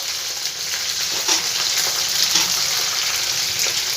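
Mixed vegetables, including tender beans and pointed gourd, sizzle and fry steadily in a pan for a vegetarian mixed-vegetable dish, a continuous close crackle with a few brief louder bursts as ingredients are stirred or added.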